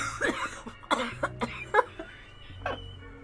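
Repeated harsh coughing, several bursts in quick succession close to the mic, with a brief pause before a final cough.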